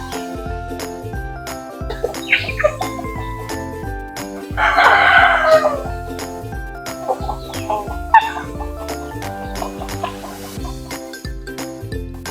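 Chickens, including brooding hens, cluck and squawk intermittently at close range, with a louder burst partway through and a steady metallic tinkling underneath.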